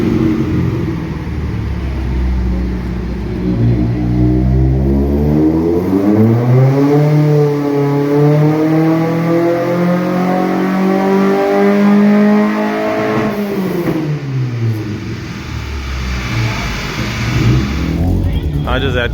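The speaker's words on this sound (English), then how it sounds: "My accelerator cable just got stuck. I put this flat and I just went to the limiter." A Mk2 with a 16-valve engine on individual throttle bodies roars on a dyno, its pitch climbing steadily, holding hard at the rev limiter, then dropping away, loud and close.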